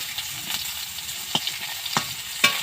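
Potatoes frying in a pan: a soft, steady sizzle with a few crisp taps and scrapes of a spatula against the pan at uneven moments, close by and without any talking.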